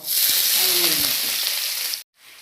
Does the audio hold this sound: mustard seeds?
yes